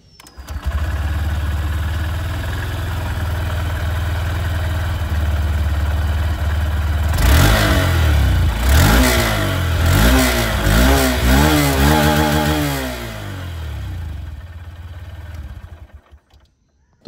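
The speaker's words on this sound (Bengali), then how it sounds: "চলুন তবে এক্সস্ট সাউন্ডটা আপনাদেরকে আমি SP125-এ" A Honda SP125 motorcycle's exhaust idles with a low steady rumble, then revs sharply several times in rising and falling bursts before settling back and cutting off, loud and close with no talk.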